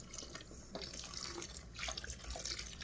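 Milk poured into a pot inside a rice cooker while cooking a potato curry, a steady liquid splashing and trickling that runs continuously close by.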